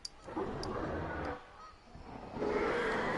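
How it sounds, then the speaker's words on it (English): Geese honk in two bursts, a longer call at the start and another near the end, moderately loud with no talk over them. "I hear geese!"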